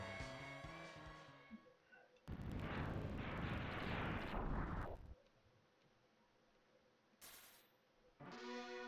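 Rocket explosions in a video game, a loud sustained roaring blast lasting nearly three seconds, followed later by a shorter burst, heard alongside game music and sound effects.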